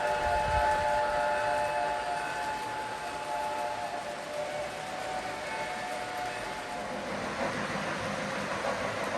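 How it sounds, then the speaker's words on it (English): A model passenger train led by an MTH Premier New York Central Mohawk locomotive runs steadily on a home layout at about 30 to 40 scale mph, a continuous rumble with sustained whistle-like tones, no talking. "this passenger train led by an MTH Premier New York Central Mohawk"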